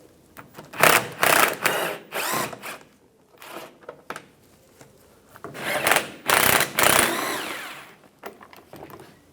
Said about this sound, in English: Using a Phillips head screwdriver,